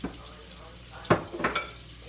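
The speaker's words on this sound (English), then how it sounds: "we'll add the sausage in the same oil that's in the pan" Sausage drops into hot bacon fat in a pan, giving a few sharp sizzling bursts and stirring clatters over a soft background hiss.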